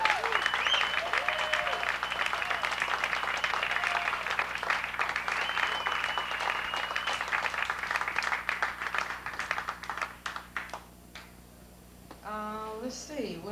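A club crowd at the Middle East downstairs applauds a singer in a long, loud, sustained wave that fades toward the end, with cheers and a voice coming through near the close.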